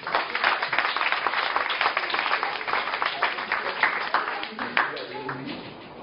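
Audience clapping in a community gathering hall, a dense burst of applause that tapers off toward the end, with a few voices mixed in.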